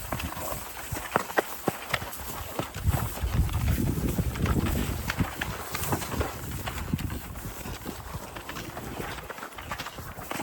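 Pack horses loaded with camp gear walking on a trail into a remote northern British Columbia mountain camp, irregular hoof thuds and clops close by amid rustling, creaking tack and wind noise.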